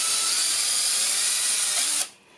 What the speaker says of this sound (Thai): เราวางแนวเจาะไปเลยครับเจาะให้สลับเป็นฟันปลาอย่างเงี้ย